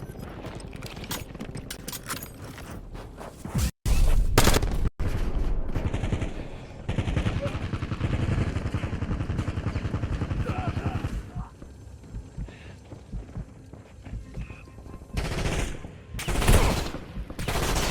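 Rapid automatic gunfire in the Call of Duty: Warzone video game, bursts of loud cracking shots with sharp peaks and brief gaps, dropping away mid-clip before more firing returns near the end.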